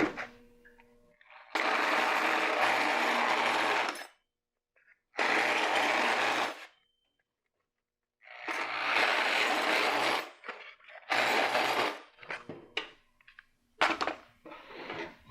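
A clipper blade sharpening machine runs in several loud, steady bursts of a few seconds each with silent gaps between them, then a rapid run of shorter stop-start pulses. Its grinding whir is close and dense, and no one speaks.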